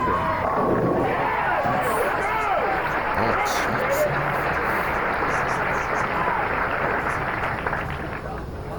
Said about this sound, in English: His cheering fans are having a field day